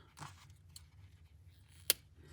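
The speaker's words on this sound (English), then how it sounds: "And we'll cut the yarn nice and close." Scissors trim black yarn close to a crocheted pinecone amigurumi. Faint handling rustles lead up to a single crisp, sharp snip, with no talk.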